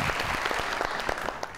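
A studio audience claps for a doctor guest on a TV talk show, a short, dense burst of steady applause heard without talk.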